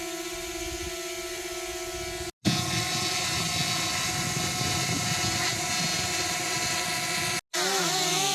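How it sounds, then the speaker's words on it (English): A hovering drone used as a fan gives a steady, loud, close whirring hum with sustained tonal whine, briefly cutting out twice, with no voices. "Just another use for a drone."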